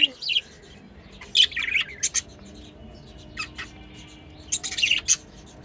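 Bright, scratchy bird chirps and squawks arrive in short bursts with quiet gaps between them, fairly close over a low background hum.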